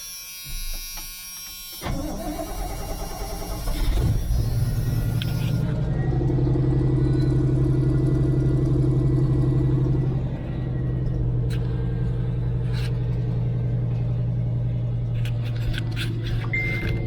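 A lifted 1987 GMC K20 squarebody truck with throttle body injection cranks and starts after sitting for months, then settles into a loud, steady idle with a deep rumble and a droning hum, heard close by.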